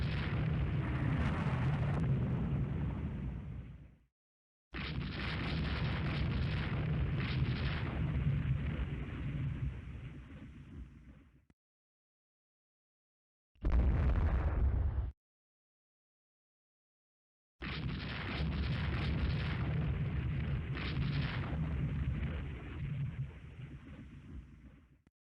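Naval 6-inch guns fire in the Rule the Waves 2 video game, heard as loud booming blasts in separate bursts of several seconds each, with near-silent gaps between them and no talking.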